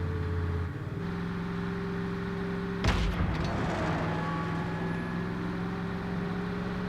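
A tank cannon in the Just Cause 3 game fires one sharp boom over a steady engine rumble and drone, and the blast decays into a rolling crackle.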